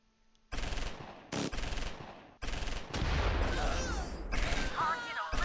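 Bursts of machine-gun and rifle fire from the Close Combat IV war strategy game, loud rapid volleys in several separate bursts with short gaps, the firing growing denser and continuous toward the end.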